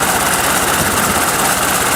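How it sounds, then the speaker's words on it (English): A 1908 American LaFrance fire engine fitted with a 46.9-liter 1925 BMW V12 aircraft engine idles close and loud, a steady smooth rumble with even vibration throughout. "The engines sound like a smooth and melodious purr, almost like a cat's contented purr."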